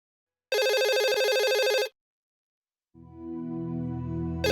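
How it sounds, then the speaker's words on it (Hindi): A telephone rings in one loud electronic burst lasting over a second, followed by silence and then a sustained lower tone. "रणबीर, तुमने सुबह सुबह यहाँ पे क्यों फोन किया?"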